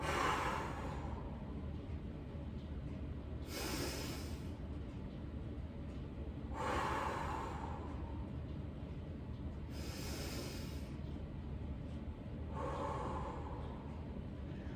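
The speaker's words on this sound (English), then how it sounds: "We're gonna breathe in through our nose. We're gonna hold and breathe out through our mouth." Five slow, audible breaths taken during a fitness cool-down, each drawn in through the nose and pushed out through the mouth, spaced roughly three seconds apart, close and clear over a steady low background hum.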